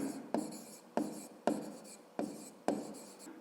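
Pen writing on paper during a fifth-grade maths exercise: close, quiet scratchy strokes come in about six repeated bursts, each starting sharply and trailing off, with no talk.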